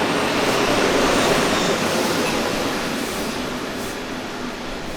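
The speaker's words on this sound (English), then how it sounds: "Another Class 240 hauled passenger service, this time with 240-089 in charge of a Nowe Zamki to Bratislava working" Class 240 electric locomotive 240-089 hauling a Nowe Zamki to Bratislava passenger train, a steady loud rumble and roar of the passing train that eases slightly over five seconds, with no voices.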